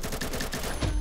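Rapid gunfire from the online shooter game Combat Master, a burst of loud close shots filling a brief moment with no talking.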